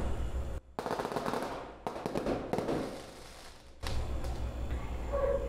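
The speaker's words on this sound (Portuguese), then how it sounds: "Por aqui já tem bastante fogos, pessoal." Fireworks explode outside in a rapid, crackling barrage of bursts and pops, with several brief pauses. They sound moderately distant and keep going throughout.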